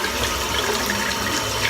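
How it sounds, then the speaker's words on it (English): Water runs steadily over the lid of a tin of Lambert's Luscious Shaving Soap "Urbane" as it is rinsed, a continuous close splashing hiss for the whole moment. "So I'm just going to rinse out the top of the soap."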